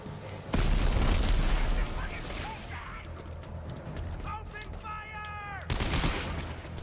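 Weapon fire in the sci-fi horror game Dead Space 3: a loud blast opens into dense rattling and mechanical clanking, with ringing electronic game tones and a second heavy burst near the end, while voices are heard.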